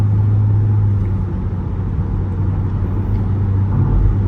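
A Toyota Vellfire 2.4 V automatic van drives along with a steady low engine and road drone, even and continuous throughout, heard from inside with no talking.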